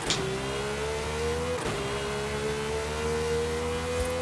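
Engine of a Rossion Q1 supercar in Forza Horizon 5 revving and accelerating, a steady rising harmonic whine with a brief shift dip midway, loud and close with no talk.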